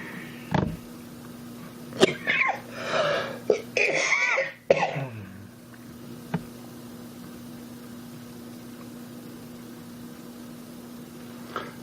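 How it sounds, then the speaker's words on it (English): A man coughs in a harsh, repeated burst, several raspy coughs close together and then a couple of isolated single coughs, close to the microphone over a steady low indoor hum. "Sorry, coughing real bad."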